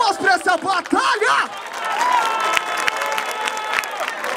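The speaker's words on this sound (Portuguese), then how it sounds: "Palmas pra essa batalha!" At a Brazilian freestyle rap battle, a crowd opens with loud shouting and whooping voices, then settles into sustained cheering and applause that carries on to the end.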